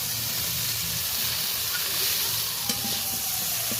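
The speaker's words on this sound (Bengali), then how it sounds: "এবার চিংড়ি মাছের সাথে ডাঁটা আর আলু বেশ ভালো করে একটু কষিয়ে নেব।" Shrimp, vegetable stalks and potatoes, just seasoned with turmeric, sauté in a hot pan with a steady close sizzle and hiss, plus occasional scrapes and knocks of stirring throughout.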